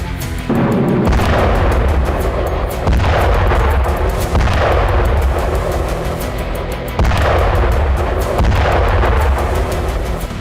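Heavy Russian multiple-launch rocket artillery strikes and explosions hitting Ukrainian military vehicles, loud and continuous, with repeated deep booms and crackling blasts rolling in waves, no voices.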